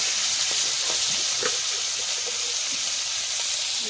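Crabs sizzle in hot oil with whole cumin in a pan, a steady close hissing crackle that stays loud throughout with small pops and scrapes, no talk.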